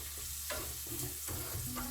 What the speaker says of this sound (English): I'm gonna fry the onions,